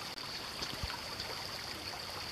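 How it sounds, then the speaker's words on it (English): A small stream flows along a hiking trail in a wooded valley, a steady soft rush and trickle of water close by with no voices. "there's a little stream here. It's pretty nice."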